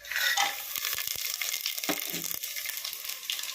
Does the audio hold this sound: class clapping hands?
no